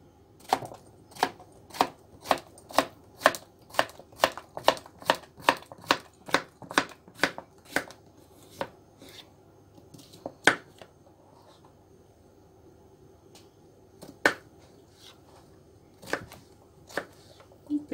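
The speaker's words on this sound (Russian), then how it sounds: "Кабачок тоже нарезаю кубиками." Knife chopping zucchini into cubes on a board: a fast, even run of about twenty crisp, close cuts, then a few sparser chops after a pause.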